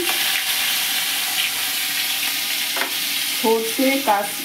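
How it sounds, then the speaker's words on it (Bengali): Nigella seeds and slit green chillies sizzle in hot oil for a Bengali mustard hilsa curry, a steady close hiss that near the end is joined by a few ringing clinks from stirring in the pan. "কালো জিরে ফোড়ন দিয়ে দিলাম আর কাঁচা লঙ্কার চেরাগুলো দিয়ে দিলাম"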